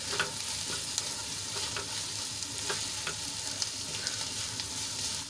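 Spices for a fenugreek and papad curry are stirred in a hot pan, a steady close sizzle with light scraping and scattered small ticks of a spoon, no voices.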